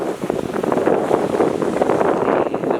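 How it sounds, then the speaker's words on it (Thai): Wind blows steadily at a beachside restaurant on the shore, a loud, continuous rushing and buffeting of the microphone with no pauses. "อาจจะมีเสียงลมนิดนึงนะ"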